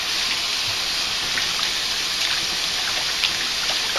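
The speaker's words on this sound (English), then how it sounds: "we're going to wash these tomatoes. You want to rinse it in cold water" Cold tap water runs steadily over fresh, partly unripe tomatoes being rinsed for home canning, a constant close splashing trickle with no talk.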